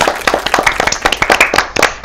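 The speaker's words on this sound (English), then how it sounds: "Oh, y'all clap." A small audience claps in a brief, uneven round of applause, individual claps distinct and close, with a little cheering mixed in.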